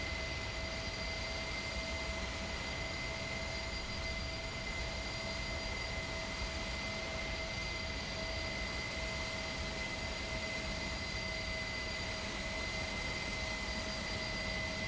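An Airbus A300 in the X-Plane 11 flight simulator, with a constant jet engine roar and steady high whining tones that hold flat and unbroken the whole time, at a fairly low level and with no voices.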